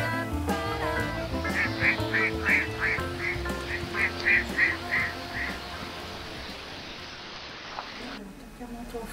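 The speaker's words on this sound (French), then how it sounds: "le colvert est un oiseau très caractéristique du patrimoine de Péronne et de toute la vallée de la Somme." A mallard duck in the Somme valley near Péronne gives a rapid run of about a dozen nasal quacks, moderately close, over a steady background with other sounds underneath.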